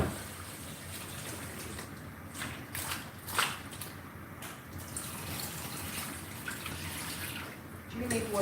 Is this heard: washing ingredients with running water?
yes